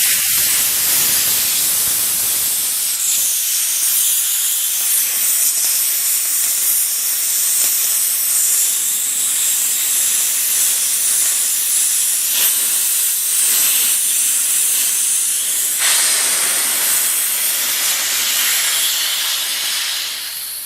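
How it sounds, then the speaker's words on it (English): Compressed air hisses loudly and steadily from the bleeder valve of a Porter Cable air compressor tank as condensation is drained, a continuous bright spray lasting the whole stretch. "You hear the air to start coming out now."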